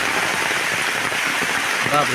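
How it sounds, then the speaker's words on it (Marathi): Heavy monsoon rain with strong wind hisses steadily nearby at a cashew orchard in Konkan, with a voice briefly audible near the end. "भरपूर जोरात वारा पाऊस येतो"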